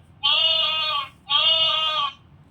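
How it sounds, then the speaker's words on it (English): A sheep bleats twice, clear and close, each quavering call lasting about a second with a short pause between. "sheep"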